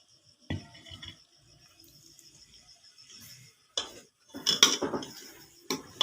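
A spoon scrapes and clinks against a metal pot while spiced beef curry with garam masala is stirred, giving a few sharp metallic taps and rattles over a quiet background hum.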